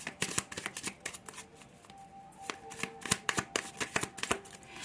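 Tarot cards shuffled by hand in quick riffling bursts, a run of crisp flutters and taps, close and fairly quiet, with no talking.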